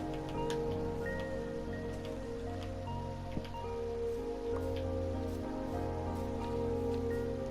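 Steady rain pattering across surfaces in the Minecraft village world, a continuous soft hiss with scattered drips, heard alongside game music tones and no talking.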